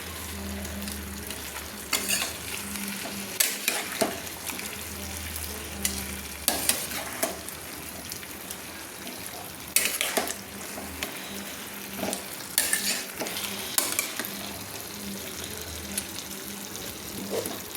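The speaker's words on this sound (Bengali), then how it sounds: "দিয়ে আবারও আমি একবার ভালো করে নেড়ে নিচ্ছি জলটা অ্যাড করে" Fish head curry with pui shak and pumpkin being stirred in a pan just after water is added, giving a wet simmering sizzle with repeated utensil scrapes and clatters, close and steady, no talking.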